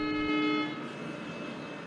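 A WDP4B diesel locomotive in a train simulator game sounds a short, clear horn blast, followed by a steady low rumble of the running train.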